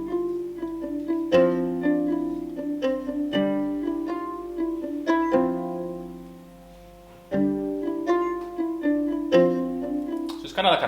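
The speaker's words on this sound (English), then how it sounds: "Kind of like an arpeggio kind of thing going with the mandolin" A Spitfire Audio Labs mandolin plays rippling arpeggios in a composed stock-music cue, its bright plucked notes cascading over sustained lower tones, with louder chordal accents every couple of seconds and a short dip before the pattern returns.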